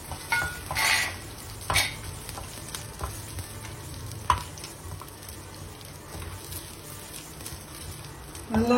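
Spices dry-roast in a pan for sambar, giving a soft sizzle under irregular stirring scrapes and occasional utensil clinks.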